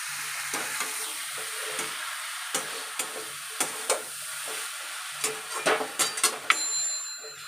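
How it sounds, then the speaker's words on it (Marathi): Washed dried shrimp being stirred in a pan for a chutney, with irregular scraping strokes of the spoon over a soft sizzle, close and fairly quiet, no voices. "हे धुवून घेतलेलं सुकट मिक्स करून घेते"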